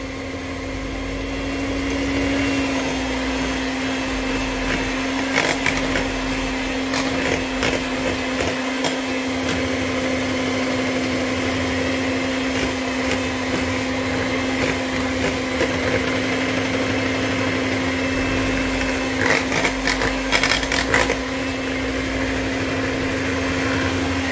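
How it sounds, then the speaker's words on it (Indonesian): Electric cake mixer beating eggs and sugar for a steamed three-flavour tape cake, a steady close motor whine with a constant hum that runs unbroken throughout. "Lalu kita mixer lagi sampai putih dan mengembang."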